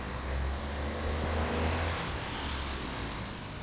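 A car engine runs at a steady low idle, loud and close, its even rumble filling the whole stretch with no voices.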